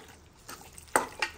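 Marinated ingredients for Hyderabadi biryani are stirred in a pan with a soft background sizzle and a few sharp utensil scrapes and clanks, close and brief, with no talking.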